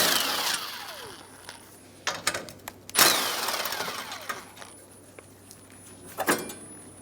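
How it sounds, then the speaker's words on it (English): A 10mm socket works bolts loose from the top brace of a 2012-2020 Chevrolet Sonic 1.8L during radiator replacement, giving sharp metallic ratchet clicks and scrapes in scattered short bursts with quiet gaps between. "Using a 10mm socket, remove the 2 bolts for the top brace"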